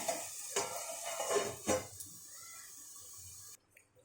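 A pot lid clatters against cookware several times in a home kitchen while a pan of morola fish paturi, small fish wrapped and steamed, cooks. The clinks are close and fairly loud, followed by a near-silent stretch.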